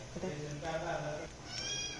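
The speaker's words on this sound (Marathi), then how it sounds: "हे मांजर पण आता लागले वरडाला" A cat meows a few times close by, its cries mixed with people talking in the background.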